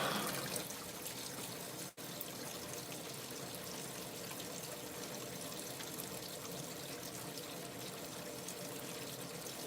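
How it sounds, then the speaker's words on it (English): Hot water flows into a Black & Decker BPWM09W portable washing machine, a steady even pouring hiss that fills the whole stretch without talking, briefly cut by a click near the start. "When is the hot water gonna come through?"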